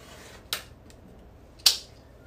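Two crisp, separate snips as quilt block fabric is trimmed with a cutting tool, about a second apart, close and quiet against a soft room hiss, no voices.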